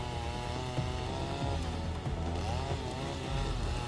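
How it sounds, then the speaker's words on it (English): A compact chainsaw used by a professional logger to cut down a giant tree, its engine buzzing steadily with rising and falling pitch under load, loud and continuous, with no voices. "This is how professional loggers cut down giant trees using a compact chainsaw."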